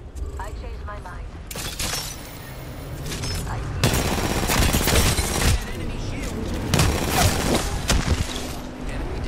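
Rapid bursts from an RE-45 pistol in Apex Legends crackle loudly in long strings of fast shots, with a short burst early and heavier sustained firing in the second half, mixed with game effects.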